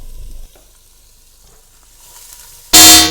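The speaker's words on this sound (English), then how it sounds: "I'm just going to gently saute the carrot and celery and onion if you have it." Carrot and celery sautéing in a soup pot: a quiet, faint low hiss for most of the moment, then a sudden loud burst of sizzling as ingredients hit the hot pot near the end.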